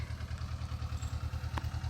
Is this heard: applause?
no